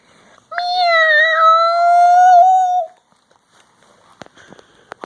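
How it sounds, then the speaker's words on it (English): A single long, drawn-out meow, loud and close, followed by a few faint clicks and rustles. "Oh no, it was a very big cat"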